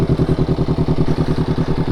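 Up close, a Honda CBR500R wearing a Leovince GP Corsa Evo exhaust ticks over at idle, its deep, evenly spaced exhaust pulses throbbing loudly and steadily throughout.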